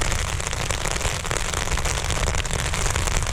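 Heavy rain drums on a tent at night during a mountain thunderstorm, a dense, loud and continuous patter with no pauses.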